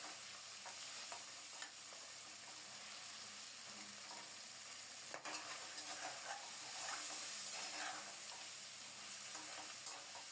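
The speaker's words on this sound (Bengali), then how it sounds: "এবার মাছের মাথাটাকে ভেঙে চুরে লাল লাল করে ভেজে নেব।" A rohu fish head being broken up and fried in a wok on a home stove gives a steady, quiet sizzle of hot oil, with occasional stirring scrapes and clicks throughout and no talking.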